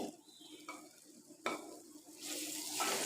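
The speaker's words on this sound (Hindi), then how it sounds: "इसको अच्छी तरह से फ्राई कर लेंगे। इसको 5 मिनट के लिए हम भूनेंगे" Minced mutton keema frying in a pan: a soft sizzle broken by a few spatula scrapes, then a louder, brighter hiss building toward the end.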